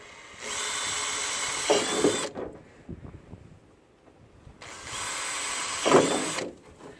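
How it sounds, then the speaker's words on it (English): An electric drill with a metal bit whines in two bursts of about two seconds each, with a short grinding bite into a metal bumper near the end of each, separated by a quiet pause. "I am using a metal drill bit"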